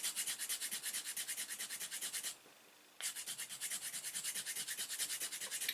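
Rhythmic strokes of coarse-grit sandpaper shaping a hard fishing lure, steady and close, with one brief pause in the middle before the rubbing resumes.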